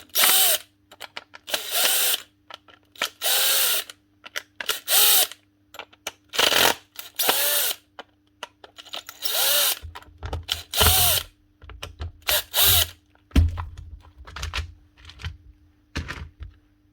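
Makita cordless drill from a workshop assembly line running in short bursts, its motor whirring up and down repeatedly with pauses between, close and fairly loud, with small clicks and handling noises in the gaps.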